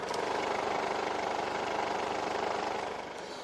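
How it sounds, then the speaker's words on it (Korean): A Mercedes-Benz GLK220 CDI 4Matic diesel engine idles smoothly and evenly, a steady low hum with a faint rhythmic clatter, close by, dropping a little in level at the end. "뭐 이 정도의 부드러운 엔진 소음 만나보실 수가 있습니다"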